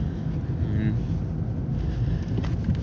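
Car cabin on a bumpy mountain road, a steady, loud low rumble of engine and road noise with wind buffeting throughout and no clear individual jolts.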